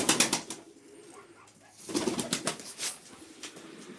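Pigeons kept by a Turkish fancier coo softly and flap their wings in brief flurries nearby, with rustling in between and no talking.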